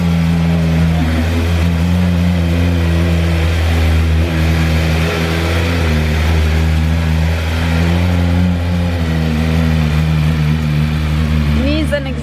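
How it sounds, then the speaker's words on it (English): A BMW M1000RR motorcycle engine draws near, its steady mid-pitched drone holding loud and close for the whole stretch under a broad rush of background noise. "Here comes the"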